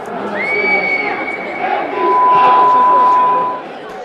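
Football fans in stadium stands shout a chant in a loud, massed roar that swells midway, with a sustained whistle-like tone cutting through the crowd noise.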